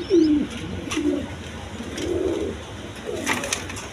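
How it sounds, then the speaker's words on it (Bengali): A pair of Giribaz pigeons coo softly, several low, throaty coos repeating at a relaxed pace against a quiet room background, with faint chirps and no talking. "এখানে এক পেয়ার গিরিবাস কবুতর আছে"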